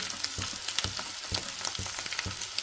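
Onion, green chili and carrot frying in oil, a loud close hiss with rhythmic scraping stirs and spatula knocks against the pan every half second or so, no voices.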